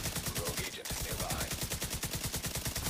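Sustained rapid automatic fire from an LMG with a 100-round magazine in the video game The Division 2, a steady loud stream of shots for about three seconds with only a brief break near the start.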